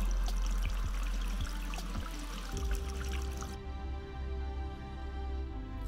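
Water runs steadily from a spigot while a home reverse osmosis system is flushed, a close, full rushing stream with a few heavier splashes early on that settle into a constant flow.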